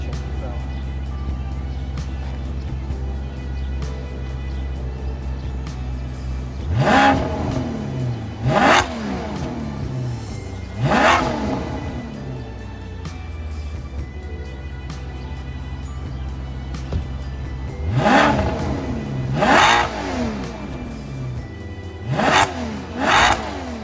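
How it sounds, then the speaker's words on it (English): A 2006 Maserati Quattroporte's 4.2-liter V8 idles low before being blipped through a series of sharp revs that rise and fall quickly, about eight bursts in uneven pairs, loud and close, with no one speaking. "That is one fine, sexy sounding engine, if I do say so myself."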